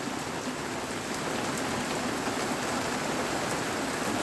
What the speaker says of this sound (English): Just want to show you a little bit of the Labor Day rainstorm we're having.